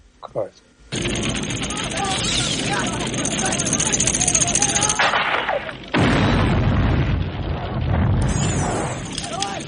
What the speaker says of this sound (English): These arrowheads are causing warhead drop from an airplane type explosions